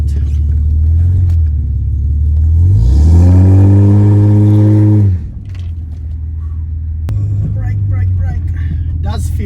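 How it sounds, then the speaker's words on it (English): Lifted Ford AU Falcon engine revving hard for a burnout: a loud rising roar climbing in pitch, held at high revs, then dropping back to a rumbling idle, with voices underneath. "But now let's go see if it can do a burnout."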